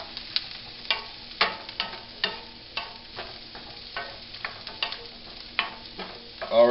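Celery and asparagus stir-fry in a hot pan, a continuous sizzle broken by repeated sharp scraping and clattering strokes of a utensil tossing the vegetables, close and fairly clear.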